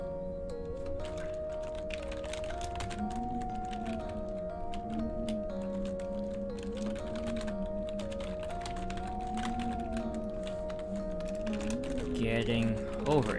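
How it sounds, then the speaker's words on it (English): Computer keyboard typing during a gaming livestream of Getting Over It, heard as scattered light clicks and taps mixed under steady background music with a sustained melody throughout. "Am I typing? Are you talking about typing? It might be my typing."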